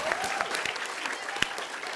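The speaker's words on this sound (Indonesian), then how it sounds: "Oke, kita berikan tepuk tangan untuk Wendy, Narji, Bang Dery sama Bang Tata" A studio audience on an Indonesian comedy variety show applauds steadily, a dense, fairly soft wash of clapping with a few sharper claps standing out.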